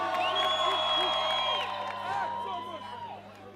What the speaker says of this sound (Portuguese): Salve de palmas para a guitarrista Ivan Medina